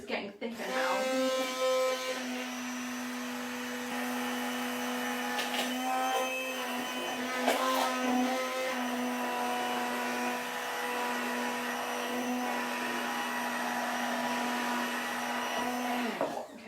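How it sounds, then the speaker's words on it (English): A blender whirs steadily while thickening a vegan coleslaw dressing in a high-sided jug. The loud continuous motor drone runs for the whole stretch and shifts slightly in tone as the mixture gets thicker. "The sound changes of this blending, and that's because it's getting thicker now."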